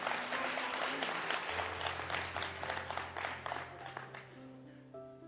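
Audience applause at a Hindi comedy poetry show, bursts of clapping with organ-like sustained tones underneath, fading toward the end.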